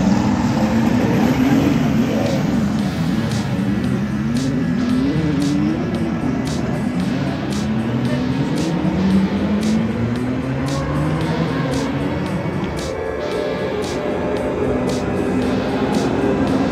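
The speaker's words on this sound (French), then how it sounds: "Ça va être le départ du tour de formation," WEC endurance race cars pulling away at Portimao for the formation lap, a continuous loud engine roar with rising and falling revs as the cars leave one after another, sustained throughout.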